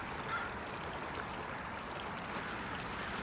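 Steady trickling water from a garden water feature in a winter garden, continuous and fairly faint, running alone with no voices.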